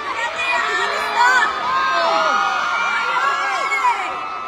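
Crowd at a live outdoor show in Birmingham shouting and cheering, many overlapping excited voices and whoops rising and falling together, loud and close with no single voice standing out.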